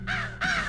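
Two loud, harsh caws from a cartoon crow, close and clear, one right after the other with a short gap, over a faint low background hum.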